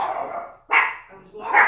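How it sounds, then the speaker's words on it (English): Dogs barking at home in two loud, close bursts with a quieter yelp between them, while people talk nearby. "Dogs, stop it."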